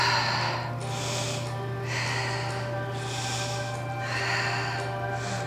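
Slow, deep yoga breaths cycle about three times, each airy rush of inhaling and exhaling fairly close and steady, over a constant low hum in a quiet class setting.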